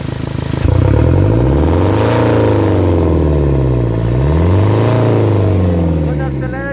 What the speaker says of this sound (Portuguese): Tira o pé. Acelera de uma vez.